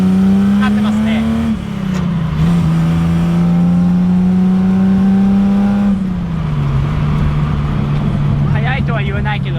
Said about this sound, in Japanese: 試乗してすごい調子いいでしょこの車